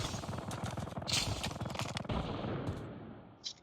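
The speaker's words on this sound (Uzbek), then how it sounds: "Kerisdan pulemyot turib otyapti böyle." Sustained automatic machine-gun fire in Call of Duty Mobile, a rapid continuous burst of loud shots lasting about two seconds, then tapering into scattered softer gunfire and game noise.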